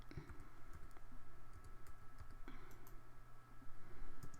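Keys on a computer keyboard click in a quick, uneven run of close taps over a low steady hum, as text is typed into drafting software.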